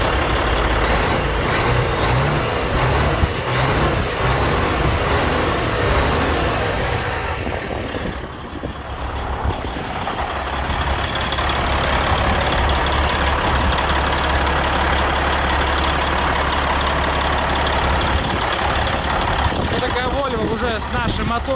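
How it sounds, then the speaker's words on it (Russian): Cold Detroit 12.7 diesel engine idling in a Volvo VNL truck, a steady loud rumble with a ringing tone that dips briefly midway, with someone speaking over it. "Но звук такой, звонкий, приятный. Детройт."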